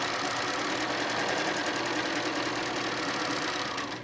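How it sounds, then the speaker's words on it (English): Sewing machine stitching quilt pieces for a cat-themed block pattern, running as one steady, continuous mechanical hum alone for about four seconds, easing slightly at the end. "We're stitching down our line."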